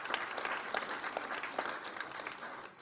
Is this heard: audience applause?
yes